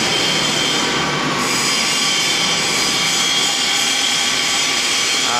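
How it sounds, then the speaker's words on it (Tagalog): A pipe grooving machine works a pipe with a loud, continuous, close mechanical roar, a dense grinding rumble laced with high squealing tones that stays steady throughout. "Napakadali lamang pong mag-groove ng pipe pag meron po kayong grooving machine."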